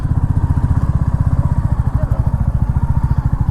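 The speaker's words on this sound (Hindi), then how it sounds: "बाइक को थोड़ा सा हम यहीं पर लगा देते हैं" Commando Sand 350 motorcycle engine running close by, a loud, steady rapid thumping idle with no talk over it.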